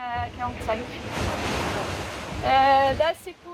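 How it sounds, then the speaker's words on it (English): Strong gusting wind in 45-knot squalls roars over breaking waves at sea during an ocean sailing race, a loud turbulent rush with voices speaking briefly at the start and near the end. "The wind is cold and dense, and so it's slamming hard in the squalls and 45-knot gusts."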